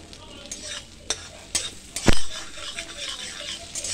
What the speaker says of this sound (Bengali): গোটা জিরে একটু ফোড়নে দিয়ে দিলাম